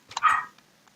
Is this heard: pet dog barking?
yes